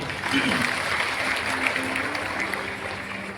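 Dense, steady applause from a gathered audience at a Bhagavat katha in Thangadh, honouring a singer of wedding songs, with a sustained voice or tone running faintly beneath the clapping throughout.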